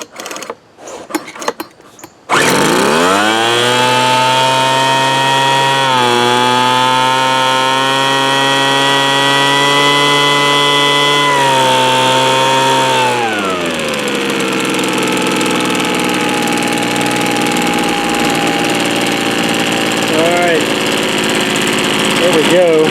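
An old Craftsman leaf blower left sitting for years sputters with a few brief pops, then catches and runs loud and close, its engine revving and settling into a lower steady drone for the rest of the clip.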